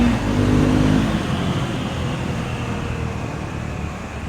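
Triumph Scrambler 400X motorcycle riding along a road, a steady engine drone mixed with heavy wind rush, fairly loud and fading slightly toward the end.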